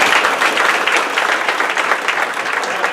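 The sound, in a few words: audience applause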